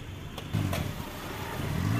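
A Maruti Omni van pulls away for a test drive, its mid-pitched engine rising as it accelerates off, fairly close and steady, with no talk over it.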